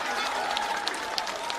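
A crowd at an outdoor political rally in Darbhanga, Bihar applauds, a dense, continuous wash of clapping with a few sharper claps standing out, fairly loud and sustained through the moment.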